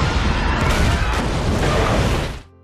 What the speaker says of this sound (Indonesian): Namun tiba-tiba, terjadi ledakan yang sangat besar.